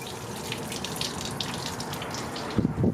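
Water running steadily from a hose flushing the radiator of a 1997–2001 Honda CR-V, a continuous close gushing rush with a brief louder splash near the end.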